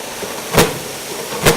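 A FIRST Robotics Competition robot starting up gives two short, sharp hissing bursts about a second apart, standing out against a quiet background.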